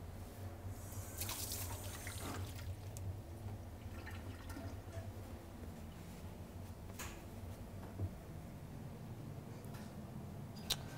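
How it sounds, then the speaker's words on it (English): Water runs steadily from a kitchen tap as hands are rinsed after handling sea bream, with dripping and splashing over a low background hum, close and fairly quiet with no talk. "And wash the hands again."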